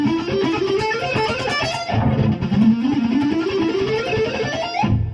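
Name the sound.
guitar playing ascending sixes picking pattern over backing track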